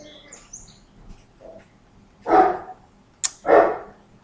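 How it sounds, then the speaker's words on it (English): Dogs barking outdoors, a few loud separate bark bursts heard at a moderate distance, with a faint high chirp between them and no talk. "Oh, my dogs. I tell you what, can you hear them barking?"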